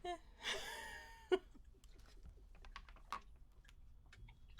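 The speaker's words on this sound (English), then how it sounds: "Typing is hard. I'm very bad at typing, apparently." Someone types on a computer keyboard in uneven bursts of light, close clicks, with a brief laugh near the start and quiet moments between keystrokes.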